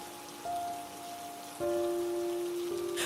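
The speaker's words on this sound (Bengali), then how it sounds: "সকাল থেকে টিপটিপ বৃষ্টি পড়েই চলেছে" Light drizzle falling over a small, remote village on a cold December day: a steady, soft patter of rain with sustained tonal notes running beneath it.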